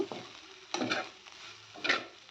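Ivy gourd curry frying and being stirred in a pan, with soft sizzling under a few scraping stirs that come at irregular intervals, close by and fairly quiet.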